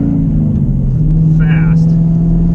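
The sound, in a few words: Dodge Challenger SRT car engine while driving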